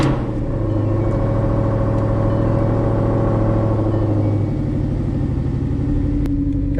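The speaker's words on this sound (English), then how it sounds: "Just gotta start her up and then immediately back out because that catless life." A Mustang engine rumbles steadily at close range through a catless exhaust, a deep, throaty idle with a raw tone that holds loud throughout.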